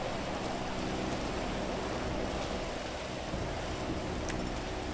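Steady, dense rain hissing in GTA Online, a broad even wash of noise that fills the whole stretch with no pauses and no talking over it.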